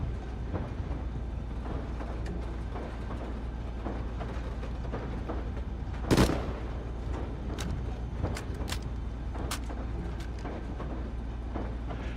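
Train rolling along rails in the Rust video game, a continuous low rumble with repeated clacks and metallic rattles, and one sharp louder burst midway.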